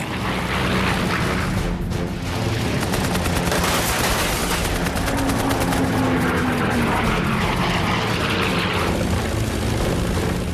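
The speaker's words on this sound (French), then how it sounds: "Le capitaine ouvre le feu et abat un des deux appareils." A P-51 Mustang fires its machine guns in a sustained, loud, rapid burst of gunfire over a droning aircraft engine, with booming impacts mixed in.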